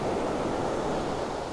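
Ocean waves breaking on the beach at 15th Street on the Balboa Peninsula, a steady broadband wash of surf filling the whole stretch with wind-like hiss and no voices over it.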